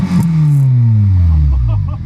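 A Honda EP3 Type R with its muffler removed revs hard, a loud, raspy engine note that swells and then sweeps smoothly downward as it settles, with a brief voice at the start.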